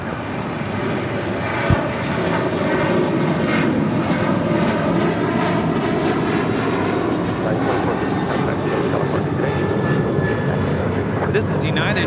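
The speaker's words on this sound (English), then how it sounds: "This is United 2450 departing to Houston on a 737-900 ER" A United Airlines Boeing 737-900ER departs LAX bound for Houston, its engines a steady, loud roar sustained throughout, with people talking over the noise.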